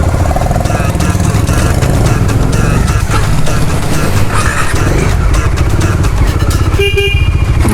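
Motorbikes heading out through Hyderabad traffic for a service, with a steady loud engine drone and road rumble throughout, clattering mechanical noise and some faint voices mixed in.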